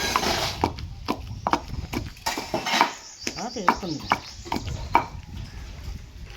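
A stone pestle pounds and grinds brinjal chutney with green chillies and tamarind in a stone mortar, giving irregular knocks and scraping strokes at close range.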